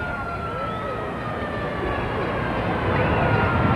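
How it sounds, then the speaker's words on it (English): A vintage police patrol car siren wails in slow rising and falling sweeps amid crowd and street noise at a 1985 circus parade in Milwaukee, growing slightly louder as it approaches. "Siren not too different from those today."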